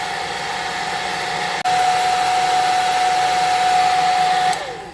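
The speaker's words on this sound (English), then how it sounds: "So I'm going to get the blow dryer and help it along" A blow dryer runs close and loud, drying glue on a craft shelf sitter: a steady whooshing hum with a brief cutout partway through, then continuing before powering down at the end.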